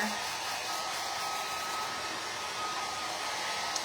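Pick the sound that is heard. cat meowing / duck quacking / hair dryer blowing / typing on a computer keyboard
hair dryer blowing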